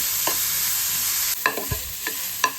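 Radish pieces fry in oil for a chutney, a steady close sizzle broken by several quick spatula scrapes and taps against the pan.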